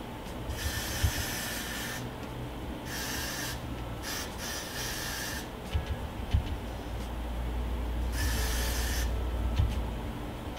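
Several hissing spray bursts from an aerosol can of hair product, each lasting about a second or more, close up, separated by quiet rustling.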